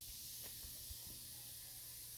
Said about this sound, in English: keep everything inside the greenhouse nice and damp throughout the hot summer